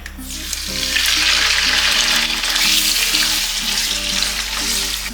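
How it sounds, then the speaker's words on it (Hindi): Mutton liver sizzles loudly in hot oil, a steady dense crackling that swells slightly, with a low musical bed playing underneath. "हमारे पास 4 टेबलस्पून ऑयल है। इसमें मैं कलेजी शामिल कर रही हूँ।"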